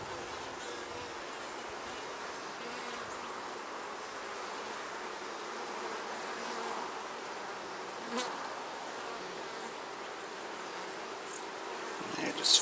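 Honey bees buzz in a dense, continuous drone around an opened hive during an emergency split, a steady swarm hum close by with a few louder passes near the end and no clear talk.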